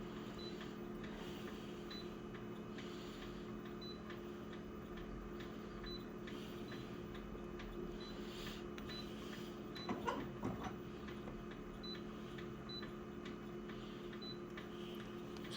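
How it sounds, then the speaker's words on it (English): An old photocopier runs rough with a steady low mechanical hum and a faint, regular ticking pulse, quiet and continuous, with a brief rattling clunk partway through and no talking. "Photocopier is running rough, but I know this machine's pretty old."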